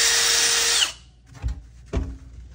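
A power drill whines loudly for under a second, then stops, followed by two dull knocks.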